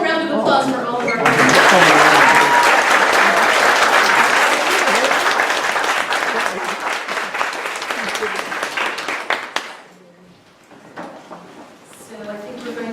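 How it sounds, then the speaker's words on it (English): Audience applause at an award event: a sustained burst of loud, dense clapping from a crowd for around nine seconds, dying away to a few scattered claps as a voice speaks briefly at the start. "And one more round of applause for all of our"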